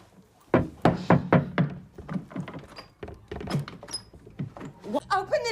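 Heavy thuds of someone banging on a closed school door in a TV drama scene, a few dull knocks mixed in with people talking loudly nearby.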